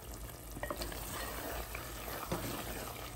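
Creamy Hyderabadi malai gosht being stirred in a pan after lemon juice, salt and chopped coriander go in, with a continuous soft sizzle and occasional scraping stirs, close and moderately loud.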